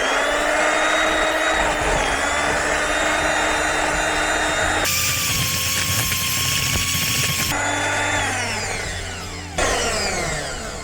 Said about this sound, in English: so the mixer doesn't quite reach over to the worktop, so we're going to mix the cake on the sofa